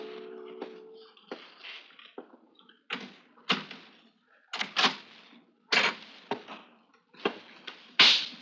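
Irregular knocks and handling thumps at a door in an old suspense radio drama, a dozen or so sharp separate hits spread across the scene, fairly close with near silence between them.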